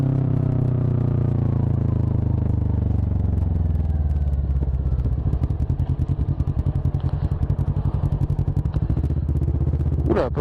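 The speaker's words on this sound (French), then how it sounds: "Le bruit du bicylindre c'est juste énorme." A Kawasaki ER6N twin-cylinder motorcycle engine, loud and close, settles from a deep rumbling rev into a lumpy, pulsing idle, ending with a brief sharp blip of the throttle.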